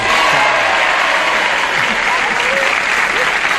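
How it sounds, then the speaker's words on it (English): An audience gives a moderate round of applause, an even, continuous patter of clapping from many hands with a hint of crowd noise. "A moderate amount of applause."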